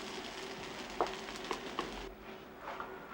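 Diced potatoes and onions frying in melted butter in a pan, a steady soft sizzle with a few light stirring knocks, close and quiet with no voices.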